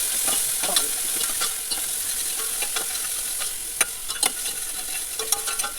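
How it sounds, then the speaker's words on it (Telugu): Broad beans (anapakaya) frying in oil while being stirred, a steady close sizzle broken by scattered scraping clicks of the spoon against the pan. "ఆయిల్లో బాగా వేయించాలి."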